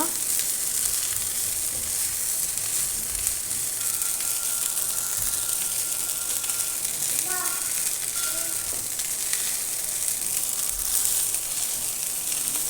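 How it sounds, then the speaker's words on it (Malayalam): Rice for egg fried rice sizzles loudly and continuously in a hot pan, a dense, even frying hiss close up, with a short faint tonal sound briefly in the middle. "ഇവിടെ റൈസ് ചേർത്ത് കൊടുക്കാവുന്നതാണ്. സ്ലോലി മിക്സ് ചെയ്യുക."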